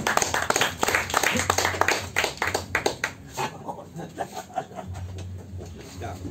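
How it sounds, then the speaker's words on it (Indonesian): A group of colleagues claps for a department head at a gathering, loud and close at first and then thinning into looser, scattered claps, with low voices talking underneath. "tepuk tangan teman-teman untuk Pak Kadis"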